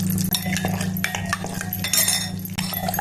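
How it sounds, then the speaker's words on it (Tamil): Mustard and fenugreek seeds spluttering in hot sesame oil, giving quick irregular crackles and tiny pops close by over a steady low kitchen hum. "நல்ல எண்ணெய் காய்ஞ்ச உடனே கடுகு வெந்தயம் நல்லா பொரிச்சிக்கலாம்"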